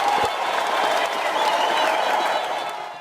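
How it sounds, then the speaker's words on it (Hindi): Loud, sustained audience applause with crowd noise at a Haryanvi ragni folk performance, steady for about three seconds before tapering off slightly at the end. "एक बार जोरदार तालियां हो जाए।"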